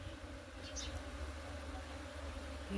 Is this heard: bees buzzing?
yes